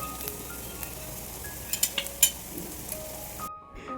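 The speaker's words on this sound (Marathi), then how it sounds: "राहिलेली कापं आहेत बाकीची ती सुद्धा आता आपण तळून घेणार आहोत." Slices of wild jackfruit (neer phanas) fry in hot oil with a soft, faint sizzle, broken by a few sharp clinks of a utensil against the pan before the sound cuts off.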